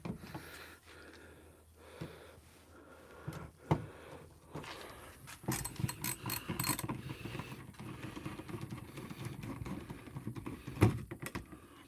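Hand tools work on small screws inside a van, giving close clicking, ratcheting and scraping mechanical sounds that grow busier and denser in the second half, with small knocks and clatters.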